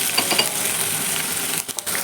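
Chopped green chillies, ginger paste and onions fry in a pan for chicken bread cutlets, with a loud, dense, continuous sizzle and a few light clinks of stirring near the end.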